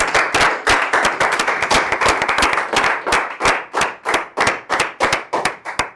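An audience claps for Yoni Vegas in rhythmic bursts of loud, close hand claps, sharp and distinct, swelling and thinning across the passage with no talk over them.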